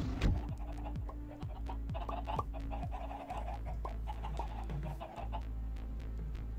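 Minecraft chickens clucking in repeated short bursts across the clip, fairly loud over a steady game background with faint voices underneath.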